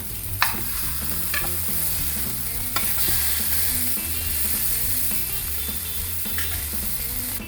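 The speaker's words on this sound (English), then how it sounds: "Now pan searing it makes it the moisture stay in the burger." Turkey burgers sear in a hot frying pan, a loud steady sizzle with occasional scrapes and sharp clinks of a utensil, close up and without talk.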